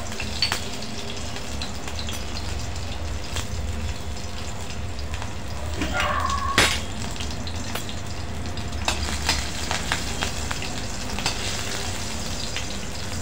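Green chilies and cumin seeds crackle and sizzle in hot oil, a constant close hiss dotted with sharp little pops, with a brief clink of a utensil partway through.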